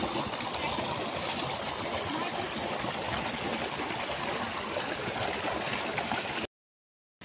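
The Jhalong river streams steadily near a camp, a broad, even rush of water that runs unbroken at a constant moderate level for about six seconds. A brief silence follows, and there is no talk.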